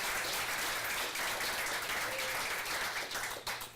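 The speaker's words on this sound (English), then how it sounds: "So let's give them a round of applause for all the hard" People at a Turlock city council meeting give a sustained round of applause, an even, continuous patter of many hands heard at moderate distance without speech.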